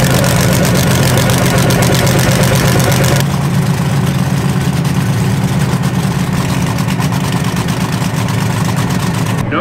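A loud, heavy pro mod drag-racing car engine rumbles nearby with a deep, rough idle, its tone shifting partway through; a voice talks faintly underneath.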